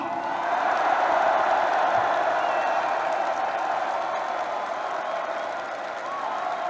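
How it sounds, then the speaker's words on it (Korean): A large crowd cheers and applauds at a political party's third anniversary rally, a dense continuous roar of voices and clapping that stays loud and steady throughout with no pauses. "여러분 큰 목소리와 함성으로 축하의 응원을 부탁드리겠습니다"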